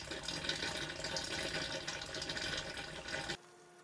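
Water drains from a pond in a snake enclosure through an opened ball valve into a basin, a steady rushing, gurgling flow that stops abruptly near the end, leaving quiet.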